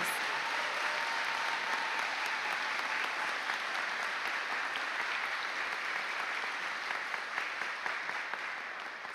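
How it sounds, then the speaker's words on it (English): A large crowd at a high school National Honor Society induction ceremony claps continuously, steady and full, sustained for about nine seconds without a break. "please join me in a well-deserved round of applause for our newly inducted National Honor Society members"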